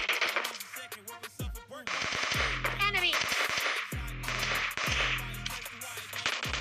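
Gunfire in the mobile shooter PUBG Lite during a team deathmatch, with bursts of rapid automatic shots repeating through the clip, loud and close, among game sounds and with a voice talking over them.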